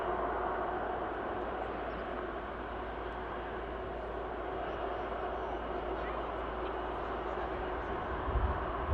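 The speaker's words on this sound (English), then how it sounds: "Air Canada A330 is still holding on the taxiway there" A steady, even roar of jet engines idling at Manchester Airport, where an Air Canada A330 airliner holds on the taxiway, with a continuous broadband rumble under a voice speaking.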